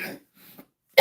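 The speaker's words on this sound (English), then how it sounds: "that's why you hear me cough a lot" A single sharp, loud cough bursts out at the end, preceded by a couple of softer throat noises and breaths, close to the listener.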